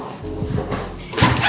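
A dog gives short, close barks and yelps indoors, with a louder burst near the end, amid household noise.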